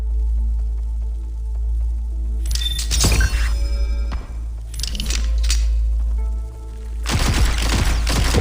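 An SMG fires in the VR shooter Into Black in three bursts of rapid shots over a low steady hum, with jangling metallic clinks and rattles around the bursts and no talk.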